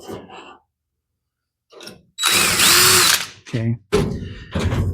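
A power drill bores a hole in an exhaust paint filter in a body shop garage. One loud, steady whirring burst of about a second is followed by shorter choppy bursts, and a voice speaks briefly.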